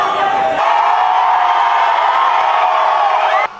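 A large crowd of Rajinikanth fans cheering and shouting together, a loud, sustained roar of massed voices with whoops that holds steady for a few seconds, then cuts off abruptly.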